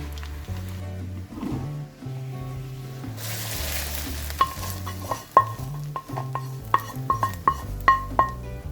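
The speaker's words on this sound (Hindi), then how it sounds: "उसको मैं इसमें ब्राउन करूंगी और इसका तड़का लगाऊंगी खिचड़ी के अंदर" A soft sizzle of tempering browning in butter in a pan for khichdi starts partway through, joined by scraping stirring strokes and clinks, with background music throughout.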